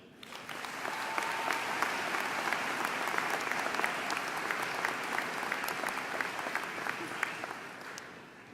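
A large audience at a university convocation claps in sustained, dense applause that holds steady for several seconds before tapering slightly at the end.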